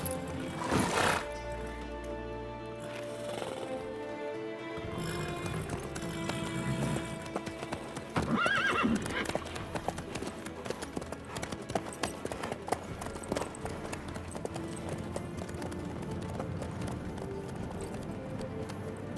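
In The Witcher 3, a horse's hooves clip-clop in a steady running rhythm, with a neigh near the start, game music and ambient effects underneath, and a short burst of voice partway through.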